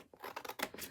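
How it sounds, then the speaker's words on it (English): Scissors trimming paper along pencil lines for a scrapbook layout, several quick close snips in an uneven rhythm, quiet and alone without talk. "all I need to do is go ahead and trim with my scissors"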